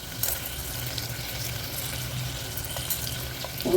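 Onion and garlic with salt sauté in a pan for tomato rice, a steady close sizzle with light stirring scrapes, and a brief louder scrape at the very end.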